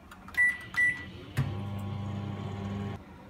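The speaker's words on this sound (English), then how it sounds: "We will microwave it for 1 minute." A microwave oven heating chicken biryani starts with two sharp beeps and a click, then runs with a steady low hum for about a second and a half before stopping.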